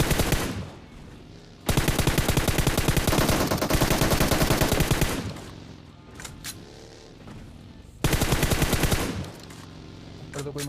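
Rapid automatic gunfire in the PUBG Mobile video game, two long sustained bursts of dense rattling shots with quieter single shots and gaps between, loud and close.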